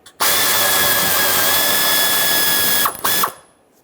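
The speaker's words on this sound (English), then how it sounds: "use a 13mm socket and remove the bolt" A 13mm socket on a ratchet loosening a bolt under a 2015-2020 GMC Yukon XL with the 5.3L V8 makes a rapid, close ratcheting whirr for nearly three seconds, then a couple of short clicking bursts before it stops.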